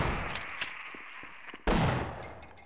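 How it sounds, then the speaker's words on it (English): Gunfire in Half-Life: Source: a few scattered cracks, then one heavy shotgun blast that booms and slowly fades, with nobody talking. "Mostly because a couple of shots from a shotgun"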